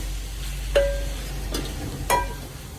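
Seven or eight sliced tomatoes frying in a pan, a quiet steady sizzle with three distinct scraping stirs of a utensil spaced about a second apart, no talking.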